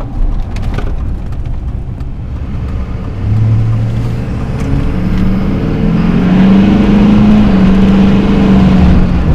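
A lifted 2004 Chevrolet Duramax LLY diesel truck with a 4-inch MBRP exhaust idles loud and close, then revs up into a deeper, rising drone that is held for several seconds, with no talking.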